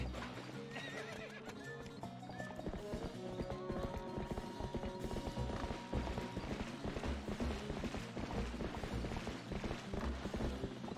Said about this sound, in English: Get your dumbass horse back over here.